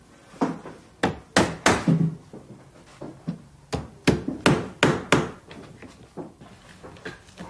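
Tacks hammered into a leather shoe upper stretched over a last, a steady series of loud, close, sharp knocks in quick irregular bursts with brief pauses.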